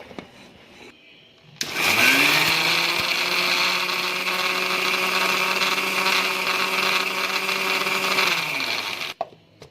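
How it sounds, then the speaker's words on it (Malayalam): A kitchen mixer grinder whirs loudly for several seconds as it grinds a chicken masala mixed with lemon and curd into paste, a steady high motor drone that starts abruptly and stops, with no talking over it. "ഇത് മിക്സിയിലിട്ട് നന്നായി ഒന്ന് പേസ്റ്റ് പോലെ അരച്ചെടുക്കും"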